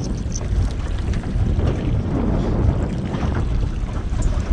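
Strong gusts of wind buffet the microphone at sea, with a low rushing roar and the wash of water around a small boat.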